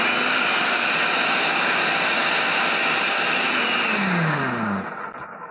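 A Miyako multifunction food processor whirs steadily while slicing vegetables, a loud, even motor drone that winds down with a falling pitch at the end.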